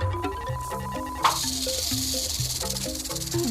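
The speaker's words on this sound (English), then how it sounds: "This is an eastern diamondback rattlesnake, deadliest snake in North America." An eastern diamondback rattlesnake rattles close by in a sustained dry, buzzing hiss. It sits under a layer of background music, with a sharp click partway through, and no speech is heard.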